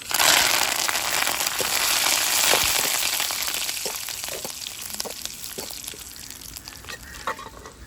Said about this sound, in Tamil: வேறு கடுகு வடிச்சிருச்சு வத்தலும் கருவேப்பிலையும் போட்டுக்கிறேன்